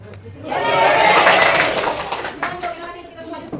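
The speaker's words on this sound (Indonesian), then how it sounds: "Tepuk tangan" Students clap together in a classroom during a grade 8 science lesson on the respiratory system, a loud burst of dense applause that swells and then fades, with voices and chatter mixed in.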